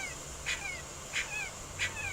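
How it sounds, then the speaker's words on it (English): Tiny puppy locked in a hot car, crying in distress with three evenly spaced high whimpering yelps, somewhat muffled and distant over a low background hum. "it's a puppy, and I can't see it, but it's crying"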